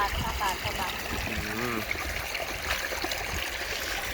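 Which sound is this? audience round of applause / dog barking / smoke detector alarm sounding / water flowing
water flowing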